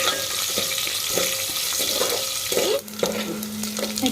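Onions and garlic fry in oil with a steady close sizzle, broken by periodic stirring scrapes and clinks.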